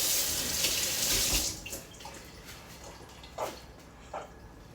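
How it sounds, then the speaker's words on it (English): Hot water pouring from a tap into a coffee cup, a steady broadband rush for about a second and a half that cuts off, followed by a few faint drips and small clinks. "I like to put hot water in there."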